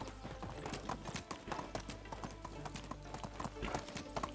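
A horse trots along a road in the medieval farming game Medieval Dynasty, its hooves clopping in a steady quick rhythm, close and continuous, with a faint voice beneath.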